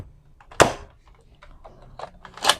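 Two sharp snaps from a Nerf toy gun being fired, one near the start and one near the end, with small clicks and handling noises between them.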